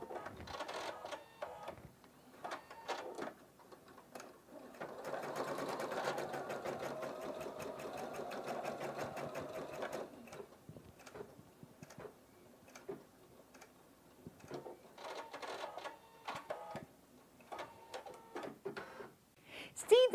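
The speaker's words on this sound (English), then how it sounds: "It'll stitch the basting in the hoop first and then move to the first color of the design." A PFAFF creative 3.0 embroidery machine stitches long basting stitches around the hoop, a steady rapid mechanical ticking in bursts separated by pauses, with a sustained run in the middle and some quiet talk between.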